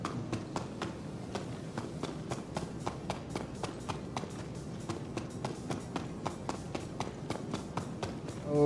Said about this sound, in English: Footsteps sounds like it's scuffled feet.